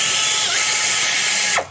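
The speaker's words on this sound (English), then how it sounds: "I want to tighten up the bolts. Let me grab my air hose real fast." An air tool tightens the alternator bolts on a Ford Triton V8 engine. It gives a steady, loud pneumatic whir up close for about a second and a half, then cuts off abruptly.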